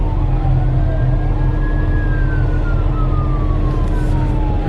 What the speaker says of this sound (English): Oh, there's the fire trucks.